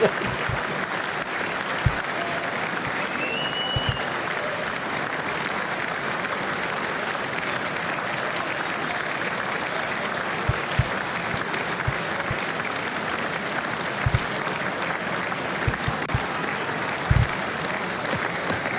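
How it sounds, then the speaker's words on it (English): Members of Congress applaud at the State of the Union address in a sustained, even roar of clapping from a large hall, loud and steady throughout, with a few faint thuds and no clear talk. "No, they're still clapping."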